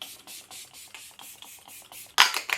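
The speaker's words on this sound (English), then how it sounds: "And I am never shy with my setting spray, I will always use loads." Makeup setting spray misted generously onto a face, a run of short pump bursts in quick rhythm, close and fairly soft, ending in a louder, denser final spritz.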